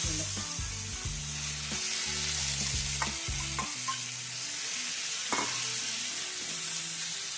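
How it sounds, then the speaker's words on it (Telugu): Grated bottle gourd fries in a pan with a steady sizzle, broken by several clattering stirs and scrapes early on before it settles into a continuous hiss. "ఈ సొరకాయలోని వాటర్ అంతా పోయేంత వరకు మనం ఫ్రై చేసుకోవాలి."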